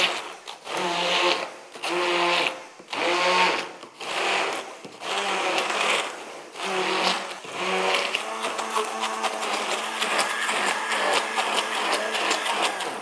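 Food processor whirring through a sorbet mixture in a home kitchen, running in several loud bursts with short pauses, then settling into a steady, continuous grind toward the end.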